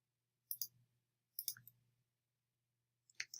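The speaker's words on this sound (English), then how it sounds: "I just click up here to New, I click Folder" A computer mouse clicks while folders are created and files organized in Google Drive. Three brief, sharp clusters of close clicks are spaced a second or more apart over a faint steady hum, with no talking.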